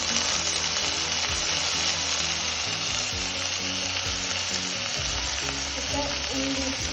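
Chopped tomatoes frying in hot oil for a potato bhaji to go with puri, a loud, dense, continuous sizzle and crackle with faint stirring underneath.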